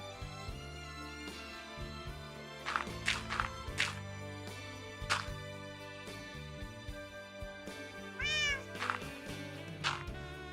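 A video-game cat meows repeatedly in short, loud bursts spread over several seconds, layered above a busy bed of game music and effects.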